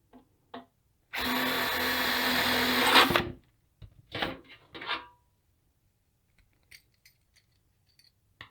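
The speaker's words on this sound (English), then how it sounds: "Now I'm going to drill holes that will match the diameter of the rod." An electric drill whines loudly for about two seconds as it bores holes through a metal ammo can, followed by a few short clicks and handling noises.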